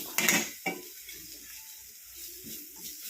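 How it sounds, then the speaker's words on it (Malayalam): Onions and spices with chili powder being sautéed and stirred in a pan for a grape curry, with a few close scrapes and clinks of a spoon against the pan over a soft, low background sizzle. "എന്നിട്ട് അതെല്ലാം കൂടെ നമുക്കൊന്ന് വഴറ്റിയെടുക്കാം"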